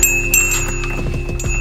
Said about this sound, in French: là, on a une autre petite cloche qu'on a ramenée de Thaïlande